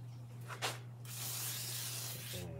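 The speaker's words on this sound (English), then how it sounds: "Strip and spray that with the deoxit" Contact cleaner sprayed onto the dead keys of a Roland D20 synth, a steady close hissing spray lasting about a second and a half after a short earlier spurt, with no talk.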